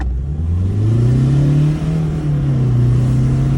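A Mazda 2 diesel car with a remapped ECU accelerates, its engine drone strong and close and its pitch rising and then holding steady throughout, with no voices.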